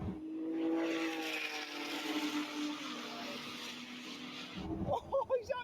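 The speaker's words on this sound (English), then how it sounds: "Damn, that Ford GT, that new one sound crazy" The new 2017 Ford GT race car roars past on track, a strong tonal engine note that swells and then cuts off sharply. Voices talk over the roar and then clearly as it ends.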